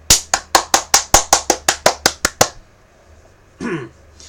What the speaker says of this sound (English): I've been told that clapping is really super aggressive by someone before.